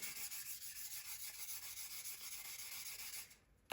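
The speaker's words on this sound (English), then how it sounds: "I'll come in with my 1000 grit and fanny sanding sponge, and then I can smooth everything out" Steady, close rubbing of a 1000 grit sanding sponge across a small plastic part of a Tamiya 1/48 F4U-1A Corsair model aircraft, an even scratchy hiss in quick strokes that stops abruptly near the end.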